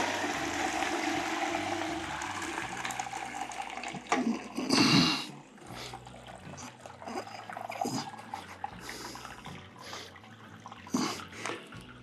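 Wort and water are dumped out of the grain basket of a Pot-au-Brew all-in-one brewing system, making an uneven splashing and trickling pour with one heavy gush in the middle and quieter dribbles afterward.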